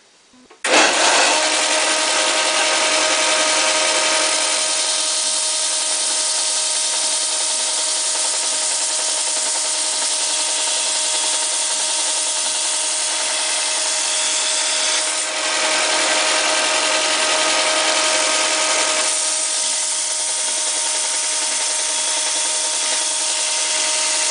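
Chainsaw bar being ground square with a power grinder, a loud continuous high-pitched grinding whine that starts abruptly and runs steadily for over twenty seconds, close up with no speech.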